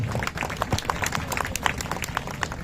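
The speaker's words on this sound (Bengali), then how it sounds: "সবাই করতালি দিয়ে ভাইকে আমন্ত্রণ জানাবেন।" Applause from an audience welcoming a speaker onto the stage, dense clapping that carries steadily from start to finish, moderately loud with a crowd murmur beneath it.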